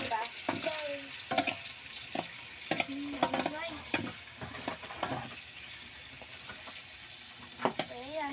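Onions and liver frying in a pan, with a steady sizzle beneath intermittent scrapes and clatter of stirring, fairly quiet and close, with faint speech now and then.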